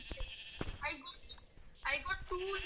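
Sheep in a video game bleating twice in short wavering calls, close and clear, with players chattering around them.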